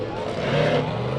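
A monster truck engine revving as it accelerates in a race at the Antelope Valley Fair, a brief loud roar with a rising pitch under an announcer's voice.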